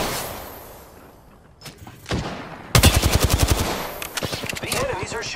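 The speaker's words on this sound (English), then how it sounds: "The enemies are shooting at me." Enemy automatic gunfire in Apex Legends: a few scattered shots, then a loud, close burst of rapid rhythmic rounds, followed by further sporadic shots under a faint voice.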